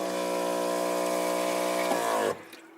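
Clean-water pump in a camper van hums steadily with a continuous tonal drone and rushing water, loud and close, cutting off abruptly near the end.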